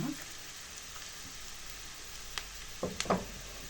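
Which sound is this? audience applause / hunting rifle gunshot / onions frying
onions frying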